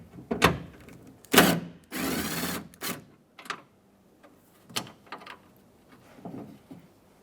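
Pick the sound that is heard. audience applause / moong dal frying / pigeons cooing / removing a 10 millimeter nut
removing a 10 millimeter nut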